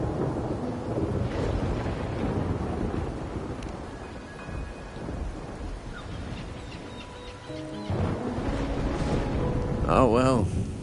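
Rain and rolling thunder in a stormy scene from the video game Wuthering Waves, a steady wash of rainfall with low rumbles throughout, while people talk over it and a brief rising tonal effect sounds near the end.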